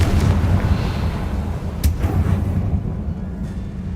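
A Confringo blasting curse going off in Hogwarts Legacy, a loud, low, rumbling blast with a sharp crack partway through, then the rumble fading out.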